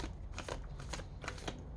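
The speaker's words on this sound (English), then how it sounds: "So I have to do it like this, which makes shuffling this deck kind of difficult" Matte-finish oracle cards from a large deck being shuffled, giving a close, steady run of papery riffling bursts that rise and fall across the short stretch with no voices.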